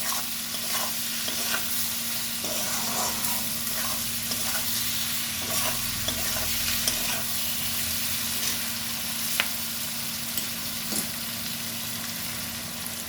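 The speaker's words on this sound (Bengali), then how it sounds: "সব মশলা দিয়ে কুদলিগুলোকে ভালো করে আরেকটু ভেজে নিতে হবে।" Spiced kudli frying in a pan while being stirred, a dense continuous sizzle close up with repeated scraping and clinking of the spoon through the pan.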